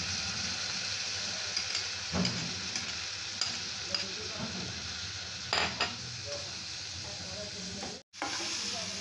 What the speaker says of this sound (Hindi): प्याज मसाला भून चुका डाल देते हैं टमाटर कटे हुए